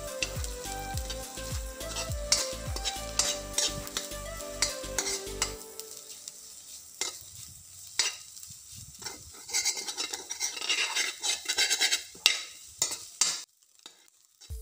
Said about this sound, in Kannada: ಪುಡಿ ಮಾಡ್ಕೊಂಡ್ಮೇಲೆ ನಾವು ಆನಿಯನ್ ಜೊತೆ ಮಿಕ್ಸ್ ಮಾಡಿ ಚೆನ್ನಾಗಿ ಫ್ರೈ ಮಾಡ್ಕೋಬೇಕು